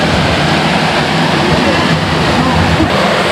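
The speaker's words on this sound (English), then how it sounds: "So this is another waterfall that I will mark on the No Wake app." A waterfall in El Yunque rainforest, Puerto Rico, roars as a loud, continuous broadband rush of falling water close by, steady and unbroken throughout.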